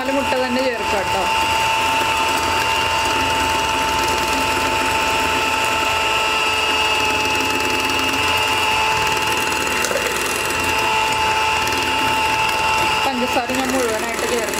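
An electric beater whirs continuously as it whips eggs and sugar for a vanilla sponge cake, a loud, steady mechanical drone with rattling in the bowl throughout.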